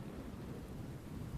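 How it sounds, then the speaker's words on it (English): A roar of thunder in a stormy scene, a low continuous rumble mixed with rain that stays loud and steady throughout the short stretch, with no voices. "there was a flash of lightning and a roar of thunder"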